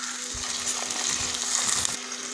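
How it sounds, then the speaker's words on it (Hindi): Two large sliced onions frying in hot oil, a steady soft sizzle with faint crackles, close and fairly quiet, with no talking. "तो ऑयल अब गर्म हो गया, तो सबसे पहले मैं इसके अंदर ये प्याज डाल दूँगी।"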